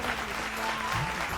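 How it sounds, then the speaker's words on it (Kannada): An audience at a Kannada singing reality show claps loudly, a continuous, even patter of many hands filling the short moment. "ಜೋರಾದ ಚಪ್ಪಾಳೆ ಬರ್ಲಿ."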